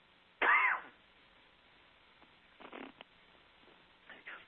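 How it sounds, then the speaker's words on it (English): A single loud, harsh residual cough from a lingering cold, up close, followed by quieter breathy throat sounds and a faint second rasp a few seconds later. "There's that residual cough."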